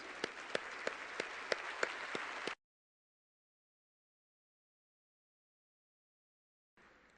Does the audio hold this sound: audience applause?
yes